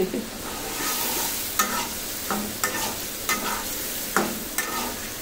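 Taro and prawns are stirred in a pan with a spatula, giving repeated scraping strokes in an irregular rhythm over a steady close-up sizzle, with no voices.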